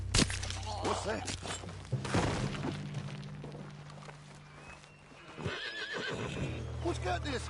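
A spooked horse in Red Dead Redemption 2 lets out loud, shrill neighs and whinnies while hooves clop nearby, with voices talking over the sound.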